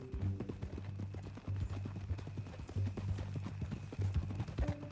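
Steady clip-clop of horse hooves in a walking rhythm in the video game Red Dead Redemption 2, close and fairly loud, with a low droning music bed underneath.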